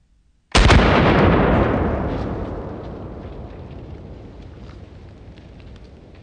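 One very loud, sharp report from a .338 Lapua rifle fired into ballistics gel, with a long rumbling echo that fades slowly over several seconds.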